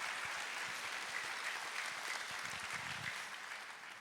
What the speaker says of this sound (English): So please give a round of applause for the sponsors and donations given to this program.